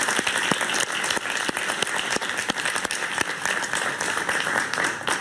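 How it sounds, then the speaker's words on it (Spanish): Studio audience on a Spanish-language talk show applauds a senator as she is introduced, steady dense clapping that fills the whole stretch at full, close level with no talk over it. "Un aplauso para ella,"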